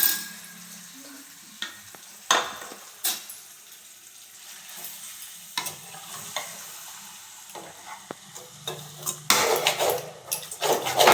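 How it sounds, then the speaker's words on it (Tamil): Chicken pieces sautéing in a pan with softened tomatoes, a low steady sizzle broken by repeated scraping stirs and clanks of a spoon against the pan, growing busier toward the end. "சிக்கன் போட்டுக்கலாம் நல்லா வந்து வதக்கிக்கலாம்"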